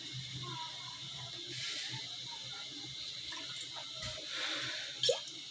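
Half a cup of water trickles and splashes softly into a pot, a quiet running pour with a small clink near the end.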